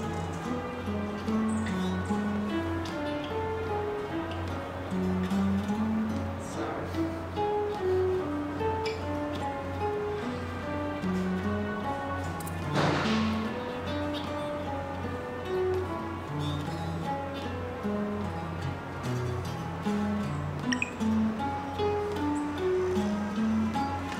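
Guitar notes are picked in a continuous flowing line that stays within a narrow pitch range, steady and close, with no talking over the playing.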